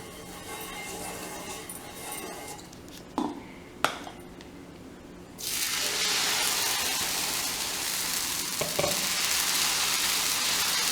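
Oil hits a hot dosa griddle and bursts into a loud, steady sizzle after a few quiet clicks and taps, the hiss holding strong to the end.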